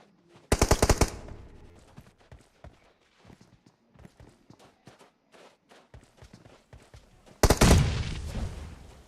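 Gunfire in the mobile battle royale game PUBG Mobile during a tournament match: two loud bursts of rapid automatic fire, one at the start and one near the end, with scattered quieter shots and footsteps in between.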